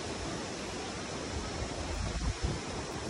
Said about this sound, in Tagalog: Kusog kaayo guys ang hangin mga kaboy.